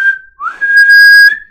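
A human voice imitates a police officer's whistle blast: a short shrill whistle, a brief gap, then a longer sustained piercing tone, loud and close.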